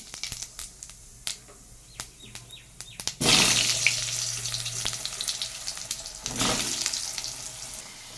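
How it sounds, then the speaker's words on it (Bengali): Potatoes fry in a pan, with scattered clicks and taps at first, then a loud, steady sizzle starting about three seconds in that swells again near the end, close by and without speech. "আমি ততক্ষণ এখানে আলুটাকে ভেজে নিচ্ছি।"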